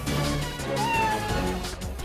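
A cat meows once in a short, rising and falling cry, close and clear over a steady background hum.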